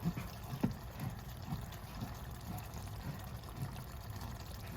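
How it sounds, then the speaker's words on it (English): An empty can being rinsed out with water, giving a soft, steady trickle and splash of running water close by at low volume. "Rinse it out again before we put it in the recycle"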